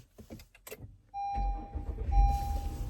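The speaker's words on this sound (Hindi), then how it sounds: "गाड़ी मैंने स्टार्ट करी है" A car's electric starter whirs briefly before the engine catches and settles into a low, rumbling idle, close by, with a chime tone sounding twice.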